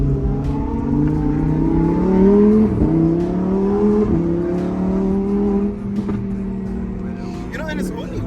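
Engine drone of a Lamborghini Huracan Evo heard from inside the cabin while driving, a steady low exhaust note rising and falling slightly with throttle, with people talking over it.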